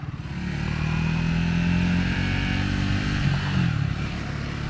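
Triumph Scrambler 400x motorcycle riding and accelerating, a steady close engine drone with a rising rev toward the end, continuous wind rush over it and no talking.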